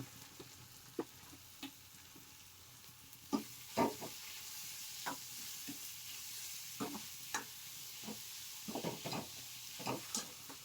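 Onion and capsicum frying in a pan, a quiet steady sizzle broken by intermittent scraping and tapping of a spatula as the vegetables are stirred.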